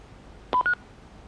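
Power-on of a fake Icom IC-V80 handheld radio: two quick, crisp electronic beeps in rapid succession, close and clear, alone against a quiet background.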